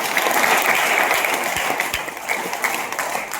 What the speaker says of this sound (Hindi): एक बार ताली बजाएंगे।